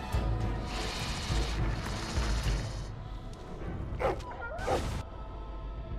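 The dog in the video game Dragon Age: Origins barks and whimpers over busy combat noise, giving a few short yelps amid whooshes and clatter.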